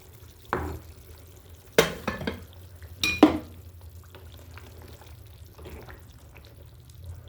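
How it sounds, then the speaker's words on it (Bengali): Fish pieces go into a pot of simmering curry, making a few soft splashy plops in quick succession over a quiet, low kitchen background with faint bubbling. "এখন আমি দিয়ে দিচ্ছি মাছগুলো"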